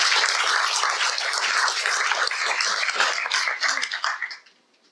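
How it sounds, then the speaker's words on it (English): A presentation audience gives a round of applause, a dense patter of many hands clapping steadily before it quickly fades out at the end. "round of applause for all of you."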